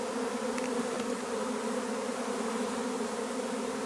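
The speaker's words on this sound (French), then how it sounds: "Ça représente un paquet d'abeilles." A swarm of honeybees leaving a hive makes a dense, continuous buzzing drone. It is steady and fairly faint, with no voices.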